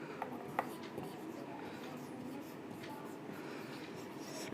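Chalk or marker writing on a board during a classroom lesson, faint continuous scratching strokes with a couple of small taps, quiet room background.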